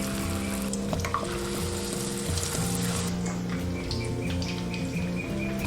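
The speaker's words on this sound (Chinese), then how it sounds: "再下入炸" Lotus root slices stuffed with meat and coated in batter deep-fry in plenty of hot oil with a few bits of ginger, giving a steady, moderate sizzle and bubbling throughout, with faint chirpy crackles on top.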